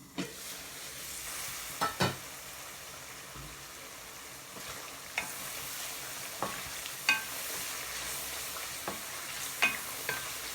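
Cumin and curry powder frying in a pan for a Bengali prawn and pumpkin curry give a soft, steady sizzle, broken by occasional light scrapes and taps as the spices are stirred.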